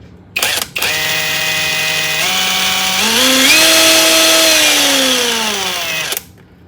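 A SakerPlus 3-in-1 cordless impact wrench, also usable as drill and driver, spins up at variable speed: a short blip, then a loud, close whine that rises in pitch in steps before cutting off.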